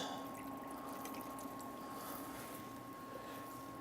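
Milk pouring into a pot on the stove, a faint steady liquid trickle under a low constant hum, with no voices.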